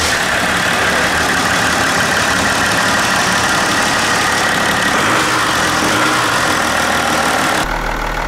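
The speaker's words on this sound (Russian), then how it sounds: "Моторчик работает ровно, как и должен работать современный дизель." A Land Rover Discovery 3 fitted with a swapped-in modern diesel engine idles steadily, a loud, even, continuous rumble with no talking, running smoothly throughout.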